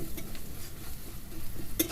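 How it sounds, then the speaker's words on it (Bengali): Ground spices, including roasted cumin and turmeric with salt, sizzle quietly in a pan while a spoon stirs them, giving a soft, steady fry and scrape with one brief sharp clink near the end. "গুঁড়ো মশলাটা দিয়ে আমি একটুখানি নেড়ে নিচ্ছি"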